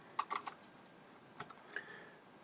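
A few quick keystrokes on a computer keyboard enter a zip code into a form, crisp clicks bunched near the start, then a couple more isolated taps and a faint high tone in an otherwise quiet room.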